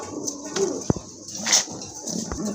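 Pigeons coo softly at close range in a loft, low throaty calls rising and falling amid light rustling and a sharp knock partway through, with no talking.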